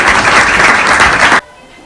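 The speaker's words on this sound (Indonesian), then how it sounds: "Beri tepuk tangan untuk kita semuanya." Classroom applause from a group of students, loud and close hand clapping that runs steadily then cuts off abruptly, leaving near silence.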